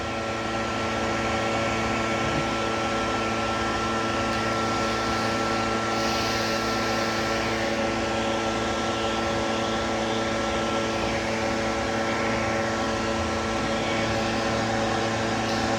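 Steady, loud whirring drone of a pet hair dryer blowing continuously while grooming a long-haired Yorkie, with no voices.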